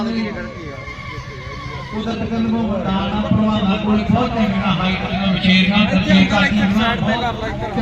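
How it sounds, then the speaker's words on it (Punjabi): Horses neighing and whinnying amid a busy crowd at a horse show at the Talwandi Sabo fair, with people talking loudly throughout and an occasional clip-clop of hooves. "ਨਮਾਇਸ਼ ਦੇ ਵਿੱਚ ਬਹੁਤ ਹੀ ਚੰਗੇ ਘੋੜੇ"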